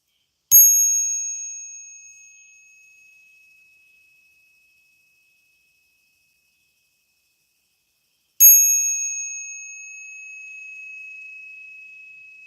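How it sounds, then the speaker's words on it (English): A single bell is struck twice, several seconds apart, each time a clear bright ding that rings out alone and decays slowly into silence. "The bell rings"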